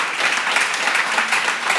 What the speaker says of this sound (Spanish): Pido un aplauso para él, por favor.